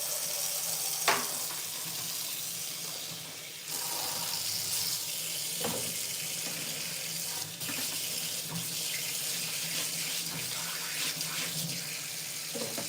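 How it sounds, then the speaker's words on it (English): Tap water runs steadily into a kitchen sink while food is rinsed off during taco prep, a continuous close hiss with a few brief clatters and splashes. "I'm gonna wash this off."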